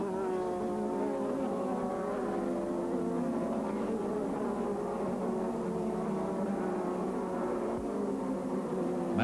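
Formula 1 race cars at the 1986 Grand Prix scream past in a continuous, layered engine whine with shifting pitches, sustained and steady at a moderate distance, without voices.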